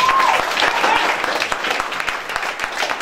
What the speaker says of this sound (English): Big round of applause for Professor Osagoro.